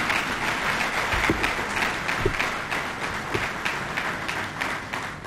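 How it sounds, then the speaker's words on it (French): Steady audience applause at a formal speaking event, continuous even clapping throughout with a few louder close claps standing out, no voices over it. "On mérite une fois de plus des applaudissements."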